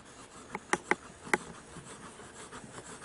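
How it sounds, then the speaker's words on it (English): A Lamy Joy 1.5 calligraphy pen scratching across 90-gram Clairefontaine paper, several soft, quick nib strokes and ticks close up in an otherwise quiet room. "I really like the way this pen writes."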